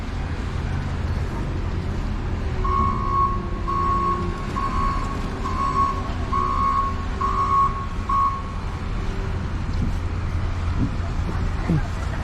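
A snow-clearing truck reverses on a New York street, sending out a steady run of evenly spaced reversing beeps over engine rumble and traffic, with someone talking throughout.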